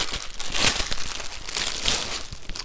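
A cross-stitch kit's small pouch being worked open, giving continuous close crinkling and crumpling of thin plastic with a few sharper crunches and tearing rustles.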